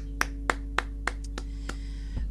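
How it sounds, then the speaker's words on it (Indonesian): A church congregation claps along during worship, roughly seven evenly spaced claps over a steady hum of sustained music, fairly distant and moderate in level. "Yang percaya boleh tepuk tangan untuk Tuhan kita yang besar."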